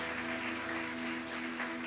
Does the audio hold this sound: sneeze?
no